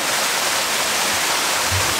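The Meguro river rushes strongly after rain, a dense, steady roar of flowing water heard up close with no break and no talk over it.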